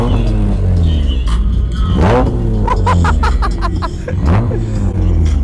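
A boosted hybrid engine in a car built to look like a Nissan R34 GT-R revs loudly nearby at a car meet in sharp bursts, rising and falling, with people murmuring and laughing underneath.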